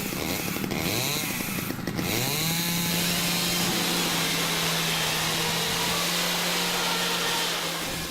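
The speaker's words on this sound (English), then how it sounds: "Chainsawed through the garage door." A chainsaw cutting through a garage door, the engine revving up in rising whines, then settling into a loud, sustained buzzing drone as the chain bites steadily through the door, close by and with no talking.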